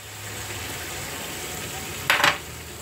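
A salmon head sautéing with soy sauce in a pan makes a steady sizzle, and a brief burst of louder scraping and stirring comes near the end, heard close.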